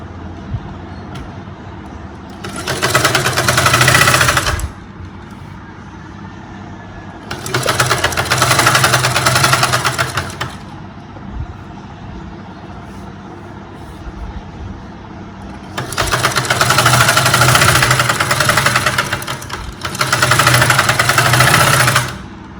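A sewing machine runs stitches around a lining top in four separate bursts, each a few seconds of loud, steady motor whir, with quiet pauses between them.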